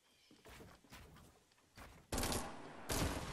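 Gunshots in a video game crack out in rapid bursts, first a few scattered shots, then two louder, denser volleys of automatic fire close by.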